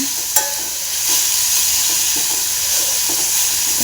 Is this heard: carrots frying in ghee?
yes